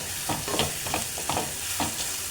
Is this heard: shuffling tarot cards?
no